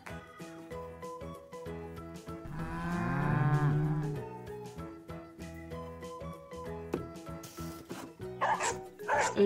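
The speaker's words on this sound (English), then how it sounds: "A dog." A dog barks amid other farm and zoo animal calls, including a low mooing, all set over steady background music, with the sounds moderately loud and intermittent.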